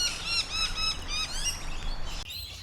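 Rainbow lorikeets squawk in eucalyptus trees, a rapid series of shrill, harsh calls overlapping one another, fairly close over quiet background, ending in a brief lull.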